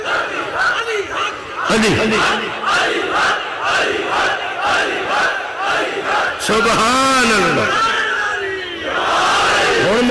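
Crowd at a Muharram majlis loudly chanting slogans in unison, rhythmic collective shouts following a lead voice, with a burst of massed cries near the end.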